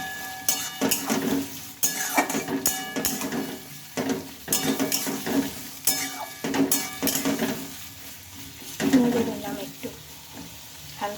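Onion, oil and spices for a mutton dish are stirred in a wok, with continuous sizzling frying and repeated spatula scrapes and clanks against the metal, close and busy throughout.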